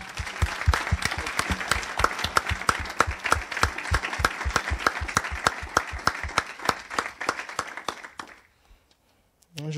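A church congregation applauds to acclaim the Lord with loud, rhythmic, evenly spaced unison claps that run steadily for about eight seconds. The clapping then stops abruptly, and a voice begins right at the end.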